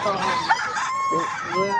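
A rooster crows close by and hens cluck at a pet market in Bocaue, Philippines, with a bit of speech mixed in over a short stretch.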